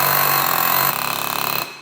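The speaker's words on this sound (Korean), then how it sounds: "먼저 작은 길이로 구멍을 조금만 뚫어. 한마디로 망치 기능이야. 돌지 않아." A power tool hammers in a rapid, steady pulse, loud and close, then winds down and cuts off near the end.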